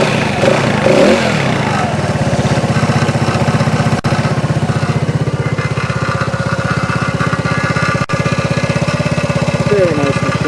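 A 2008 150cc ASW Carbide Fox go-kart engine cranks and catches, then runs at a loud, steady putting idle close by, with a couple of sharp clicks along the way.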